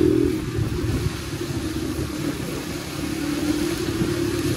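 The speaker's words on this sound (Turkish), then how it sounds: "Ayrıyeten de çift egzoz var motorda." Yamaha YBR motorcycle engine with dual exhaust and an open air filter, idling or running steadily at a low mid-range drone, close and continuous with a faint rough texture.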